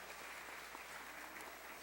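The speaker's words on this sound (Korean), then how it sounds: "박수 부탁드립니다" Quiet, steady applause from a church gathering at a Pentecost scripture-recitation awards event, a faint, even patter of clapping that stays distant and uniform for the whole stretch.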